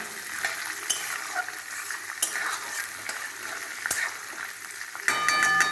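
Close, steady sizzle of chickpeas and peanuts frying with chopped ginger, broken by repeated spoon scrapes and taps against the pan as they are stirred, ending with a brighter, louder burst of frying.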